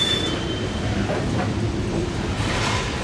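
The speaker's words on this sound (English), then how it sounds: "now we'll see if they hook back up to their train." Freight train cars rolling through a rail yard, a steady loud rumble of wheels on track with faint squeals rising now and then, continuous and nearby.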